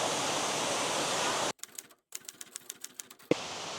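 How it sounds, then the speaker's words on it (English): A waterfall in the Philippines gives a loud, steady roar of rushing water that cuts off partway for a stretch of quieter, scattered clicking and then returns just as loudly. No one speaks. "here's a waterfall"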